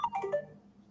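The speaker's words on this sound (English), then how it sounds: "What was that? You got all sorts of sound effects going on back there. Text message." A phone's text message notification chimes once: a short, quick run of bright descending electronic tones, fairly faint and heard on its own.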